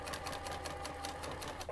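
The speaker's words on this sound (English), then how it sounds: "I'm going to sew these together by lifting the presser foot, setting this right there beside that one" A sewing machine runs steadily while chain piecing quilt fabric blocks for an Arkansas Crossroads quilt, an even, rapid stitching whir that continues without pause.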